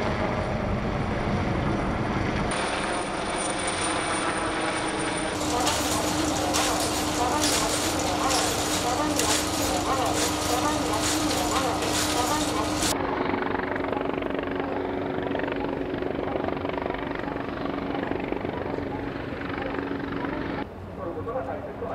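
A Japan Coast Guard helicopter from Haneda Air Station roars loudly and steadily nearby at a disaster drill, its rotor and engine noise constant, with gusty wind rushing across the microphone.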